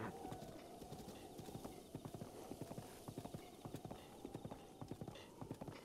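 Horse hooves clip-clop steadily in the video game Breath of the Wild, a brisk, regular trot of sharp knocks that runs the whole way through with no talk over it.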